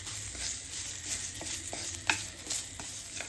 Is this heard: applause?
no